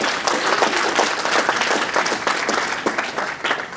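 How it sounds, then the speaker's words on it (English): An indoor audience at a tech startup meetup breaks into dense, continuous applause, many hands clapping steadily at close range for the whole stretch, with no voice over it. "The first clap, kind of sad, so let's try it again."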